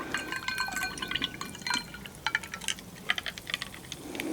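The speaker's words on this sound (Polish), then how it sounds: "Do tego wlewam sobie wodę gazowaną." Sparkling water pours into a glass holding a chilled rhubarb, ginger, honey and mint drink, with a steady fizzing stream broken by crisp bubbly pops and splashes, close and clear.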